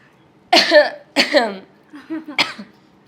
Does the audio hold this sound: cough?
yes